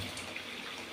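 Water poured into a pan of lightly spiced mutton being cooked, a brief, steady splashing pour heard up close, with no talk.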